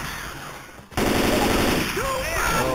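Sustained automatic gunfire in the zombie shooter Left 4 Dead 2, at a farmhouse finale: a dense, loud burst begins abruptly about a second in after a quieter stretch, with brief higher tonal sounds layered over the shooting later on.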